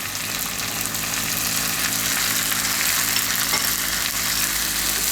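Onions frying in a pan as tomatoes go in, a steady loud sizzle running without pause, with no talking, while a Gujarati onion-tomato gravy curry is cooked.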